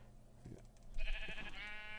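Sheep bleating in a survival-building video game, a short wavering bleat rising midway through the clip over a low steady game background hum.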